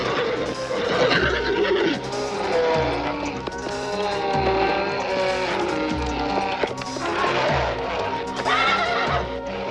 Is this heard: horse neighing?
yes